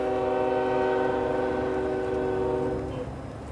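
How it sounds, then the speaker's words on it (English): Train passing near a forest, with a sustained loud horn blast over the rumble of railcars, slowly fading toward the end. "wouldn't you know it, there's a train"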